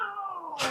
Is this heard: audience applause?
no